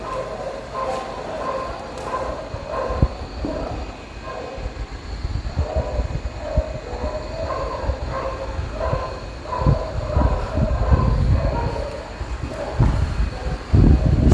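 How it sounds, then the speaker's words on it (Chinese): Several dogs outside bark fiercely and continuously, as if fighting, with overlapping yaps and growling barks heard at a moderate distance from inside a building in Taiwan at night. "这感觉好像是狗狗在打群架啊"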